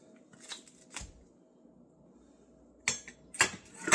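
A knife slicing through a ripe jackfruit on a cutting surface, a few sharp crisp cuts and clicks spread out with quiet gaps in between, close and fairly soft.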